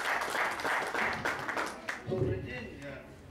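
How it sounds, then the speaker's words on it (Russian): Spectators at a college arm-wrestling championship applaud a guest and his support group. The clapping is busy at first, then fades under a voice that takes over in the second half. "аплодисменты зрителей"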